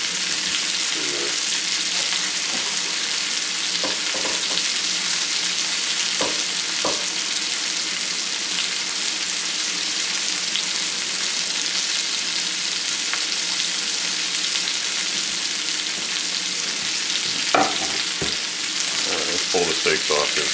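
Steaks sear in a newly seasoned cast iron skillet, giving a steady, loud broadband sizzle and crackle throughout, with a few brief clicks and scrapes along the way and no talking.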